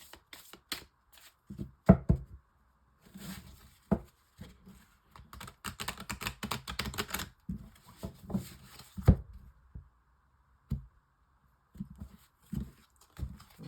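Lenormand fortune-telling cards are shuffled for a six-card draw, giving quiet, irregular bursts of papery riffles and taps separated by short silences.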